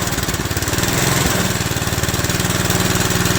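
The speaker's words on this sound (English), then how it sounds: "I got the idle a little too low on it. Look at that, it's running out of gas, finally. Loading up a little bit." A 1960 Tote Gote's small engine idles low and loping after a carburetor rebuild, a close, steady putter with an even rhythmic chug that sags slightly as it loads up.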